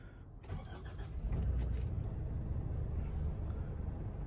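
Nissan Caravan super long high-roof van with the older 2.5-litre diesel turbo engine cranking briefly, catching and settling into a steady low idle, heard faintly at a distance.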